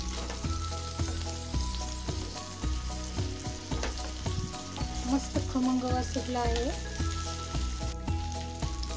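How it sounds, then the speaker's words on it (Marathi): Chicken pieces sizzle while frying on their second side in a pan for butter chicken, a soft, steady hiss under rhythmic background music, with a voice speaking briefly. "आता आपण हे चिकनचे पीसेस दुसऱ्या बाजूनेही फ्राय करून घेऊया."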